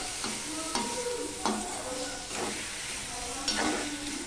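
Bitter gourd and potato frying in a pan with tomato just added: a continuous hissing sizzle with regular scraping strokes of a spatula, roughly once every second, fairly close.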